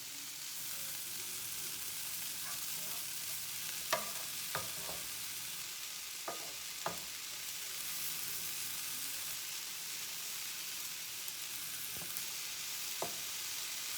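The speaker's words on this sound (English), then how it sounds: "we're stirring this all together with the apples" Diced, peeled apples being stirred into a pork roulade stuffing, giving a steady soft scraping and mixing bed with scattered clacks of a spoon against the bowl, alone with no talk.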